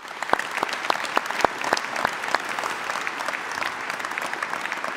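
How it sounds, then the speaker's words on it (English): Applause from a crowd at a graduation ceremony, with a few sharp individual claps standing out early over a continuous patter of clapping. "Let's give Wendy another round of applause, please"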